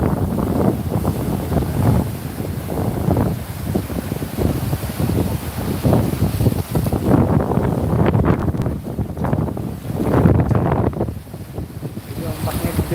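Big sea waves surging and splashing around a boat out on the open sea, heavy continuous rushing water mixed with strong wind buffeting the microphone, loud and close throughout.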